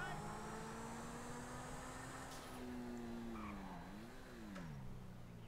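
La Turismo sports car from GTA IV, fitted with performance upgrades, accelerating hard: a steady engine drone rises and dips in pitch through gear changes, with brief tire noise, under faint background sound.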